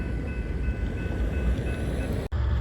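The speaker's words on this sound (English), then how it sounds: "This unit train came in earlier today and tied down in the yard and is now heading westbound" A unit freight train moves westbound out of a rail yard with a loud, steady, broadband rumble and rolling rail noise, heard close by and without talking.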